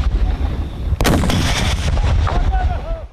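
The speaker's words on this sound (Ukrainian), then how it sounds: "Одна з військових стріляла з ручного протитанкового гранатомету." A handheld anti-tank grenade launcher fires during a shooting exercise with territorial defense troops, giving one loud, close blast with a sharp onset that booms and rumbles away over a steady background of wind and outdoor noise.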